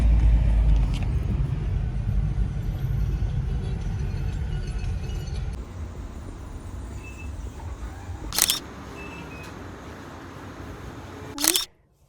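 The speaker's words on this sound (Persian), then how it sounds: "ولی عجیب ترافیک" Inside a car crawling through heavy traffic, a low steady road rumble fills the cabin, fading partway through, with two short sharp clicks standing out near the end.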